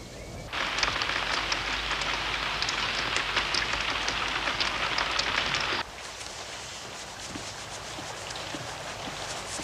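Steady rain falls in a film scene, a dense continuous hiss of drops on surfaces that drops slightly in intensity partway through, with no speech.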